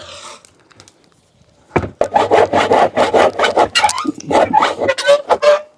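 A hand saw works through dry wood outdoors at an allotment, with a run of loud, steady back-and-forth rasping strokes following a quiet pause and a few faint knocks.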